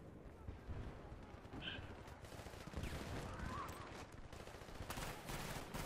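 Faint, distant gunfire on the Nelson Bay map in Battlefield: Bad Company 2, scattered bursts of rifle shots against a low battlefield rumble, with a voice over the top.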